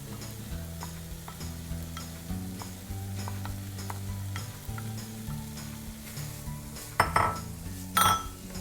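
Tomato puree goes into a pot of lobster bisque with brandy and is stirred, a soft simmering sizzle under gentle scraping, then two louder clinks of a utensil against the pot near the end.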